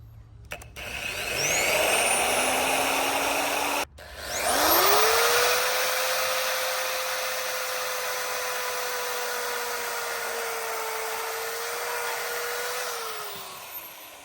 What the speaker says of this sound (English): drilling the pilot hole from the inside.